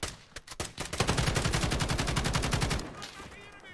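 Rapid automatic gunfire in the Warzone video game, a few separate shots followed by a long fast burst of evenly spaced rounds that then stops, loud and close.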